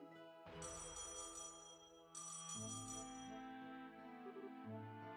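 A telephone rings after dialing in the video game Trails in the Sky SC, a tonal electronic ring pattern repeating in bursts, clear and unaccompanied by speech.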